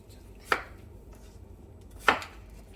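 A knife cuts through pear on a board, likely for a galbi-jjim marinade. Two separate crisp chops land about a second and a half apart, close and distinct, with no voices.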